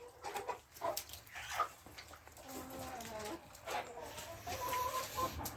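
Sasso hens cluck and murmur softly in bursts, with a quiet rooster-like call among them, faint and somewhat distant.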